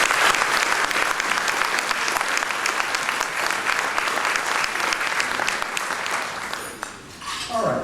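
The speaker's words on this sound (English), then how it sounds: "So again, I think IFI deserves a round of applause for." A sustained round of applause from an audience at a community awards event, many hands clapping steadily before fading and briefly picking up again at the end.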